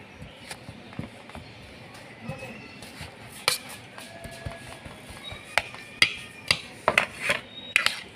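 Boiled potatoes being mashed with salt and spices for aloo samosa filling, heard as irregular soft thuds and sharper clacks of a utensil against the bowl, growing more frequent toward the end, with a voice talking underneath.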